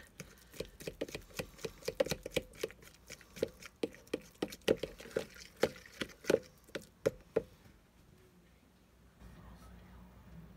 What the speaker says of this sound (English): I'm just going to mash.